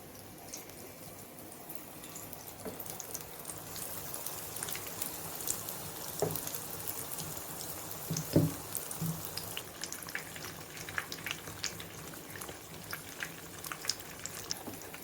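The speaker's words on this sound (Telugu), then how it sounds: "ఇప్పుడు ఆయిల్ హీట్ అయిన తర్వాత మిర్చిని ఇలా ముంచి ఆయిల్లో ఇలా వేసుకోవాలి" Battered green chillies for Guntur-style mirchi bajji dropped into hot oil, a steady low bubbling and fizzing sizzle with scattered small pops, moderately quiet and continuous, no talking.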